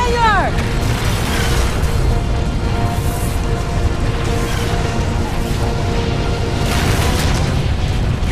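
Missile explosions in the mech combat game MechWarrior 4: Vengeance: continuous loud booming and rumbling blasts under dense battle noise, with voices talking throughout.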